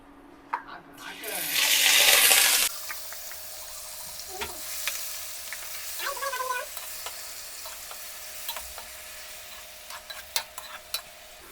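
Spices and ground onion paste hit hot oil in a home kitchen pan with a brief loud hissing burst, settling into a quieter steady sizzle with occasional stirring clicks.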